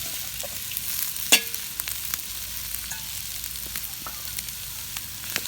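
About two cups of onions sweat in warmed oil in a pot for Hungarian goulash, a soft steady sizzle with occasional stirring scrapes and one sharp clink of utensil on pan.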